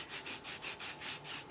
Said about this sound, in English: I'm just going to use my sanding tool just to kind of